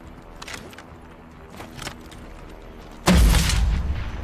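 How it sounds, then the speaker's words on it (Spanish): A bazooka fires in the Warzone video game with one sudden, loud, deep boom near the end, preceded by a few faint scattered knocks. "Qué genial el bazooka ahora"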